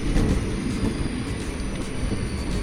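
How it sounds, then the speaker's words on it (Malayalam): Chennai–Guruvayur Express standing or rolling at Angamaly railway station, a steady loud rumble of carriages and engine with faint rail noise, no voices. "ഇത് നമ്മൾ വന്ന ചെന്നൈ ഗുരുവായൂർ എക്സ്പ്രസ് ആണ്"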